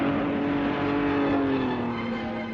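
A 1950s–1980s era Formula 1 race car screams past at the finish line, a loud steady engine note that drops slightly in pitch as it passes, alone without talk.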